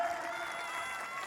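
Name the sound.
audience applause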